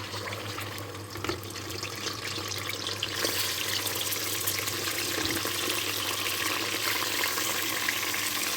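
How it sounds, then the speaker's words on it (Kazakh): Continuous sizzle and hiss of meat frying in a large cauldron for plov, a steady wash of noise with a few faint clinks. "Жақсылап қызарғанша қуырып аламыз."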